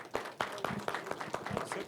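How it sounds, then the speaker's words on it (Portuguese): An audience applauds a president at a Brazilian national meeting session. The clapping is brisk and dense and lasts about two seconds. "Palmas para o nosso presidente."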